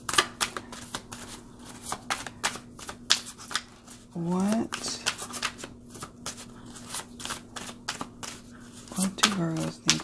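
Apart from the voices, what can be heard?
riffle shuffling oracle cards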